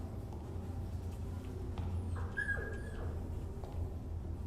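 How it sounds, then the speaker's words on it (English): A dog barks and whimpers in the video game Rewind or Die, small yips in a quiet scene over a steady low hum. "we got a little bark here"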